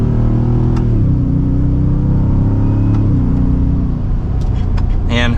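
A 2023 Ford F-150 Raptor R in sport mode accelerates mildly from second gear, a loud deep engine drone climbing in pitch with distinct gear shifts, under a close voice talking.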